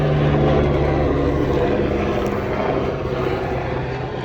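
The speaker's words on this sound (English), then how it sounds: "My apologies for the sheriff's helicopter flying above." Steady, loud rotor and engine drone of a sheriff's helicopter passing overhead, a continuous low roar that fades slightly toward the end.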